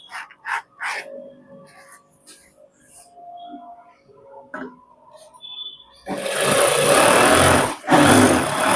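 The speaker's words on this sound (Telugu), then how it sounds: "ఇలా కుట్టిన తర్వాత గ్రిప్ పై భాగం అనేది మనం స్టిచ్ చేసుకోవాలి." Sewing machine running steadily while stitching a pant belt, starting after several seconds of quiet handling and loud, close and continuous to the end.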